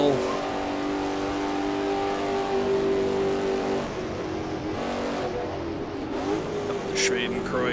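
Race car engine in Assetto Corsa on the vintage 1967 Nürburgring, held at a loud steady roar, then easing and rising again through gear changes, with a faint tire squeal near the end, close and continuous.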